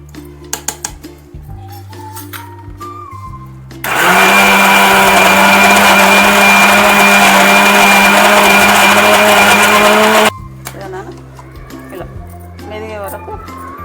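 Kitchen blender grinding ginger chutney with turmeric, a loud, steady motor roar lasting several seconds in the middle, with someone talking and the clink of kitchenware before and after.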